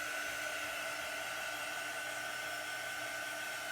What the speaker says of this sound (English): It dries so fast with this dry tool.